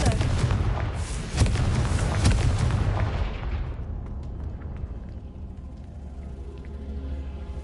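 A Confringo blasting spell explodes in the video game Hogwarts Legacy, a loud booming blast with heavy low rumble that rolls on for a few seconds before fading to a quieter hum.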